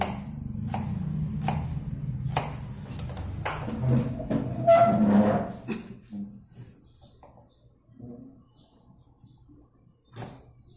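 Onion being sliced with a knife on a board: a quick series of crisp cuts at first, then slower, more spaced chops with quieter gaps, moderately close, with no talking.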